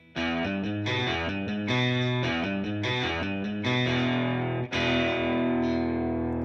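Double-tracked virtual electric guitar run through effects and overdrive, playing a loud, steady chordal riff with sustained ringing notes, a brief dip near the end, then a final ringing chord alone.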